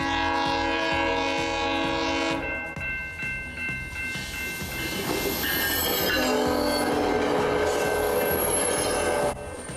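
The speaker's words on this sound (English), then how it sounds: "why the train is honking to begin with" A train in Stouffville sounds its horn in long, loud sustained blasts, with the steady clickety-clack of wheels over rail joints running underneath and a squeal of wheels partway through, heard close by without talk.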